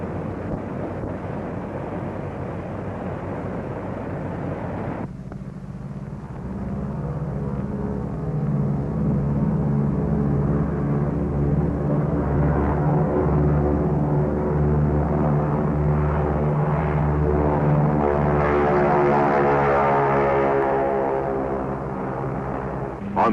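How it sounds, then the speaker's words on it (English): Army Air Force pilotless drone planes run up and take off from an airfield, a loud steady propeller-engine drone rising after a few seconds and holding at full power, with wind buffeting the microphone throughout. "Army Air Force drones are preparing to take off"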